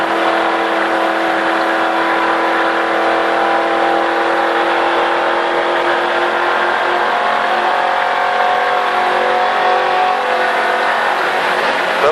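A race car engine pulls hard on a track at a Richard Petty driving experience, a loud, continuous, close engine roar with no voices heard.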